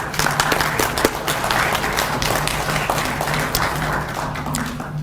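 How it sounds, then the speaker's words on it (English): Sustained round of applause from an audience at a public community grant meeting in Valemount, BC, thanking volunteer adjudicators, a steady crowded patter with a low hum underneath. "I think we should all just give them a round of applause for their time"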